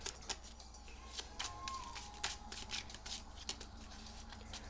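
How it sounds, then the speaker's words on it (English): Tarot cards being shuffled up close, a run of soft riffling bursts and papery taps repeating at an uneven pace in a quiet room with no voices. "I'm going to shuffle out all the cards here for you"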